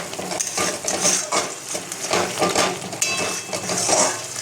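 Lentil paste curry masala being stirred in a pan with a metal spoon, continuous close scraping and clinking against the pan with a faint sizzle underneath, no talking.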